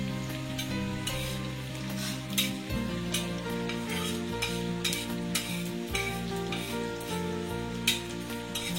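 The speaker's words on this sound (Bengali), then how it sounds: "একটা তাওয়া গরম করে মৌরি দিয়ে দিচ্ছি, একটু ভালো করে ভাজতে হবে" Fennel seeds dry-roasting on a hot griddle over low heat make a quiet, continuous sizzle with repeated stirring scrapes and light clinks of a utensil against the pan.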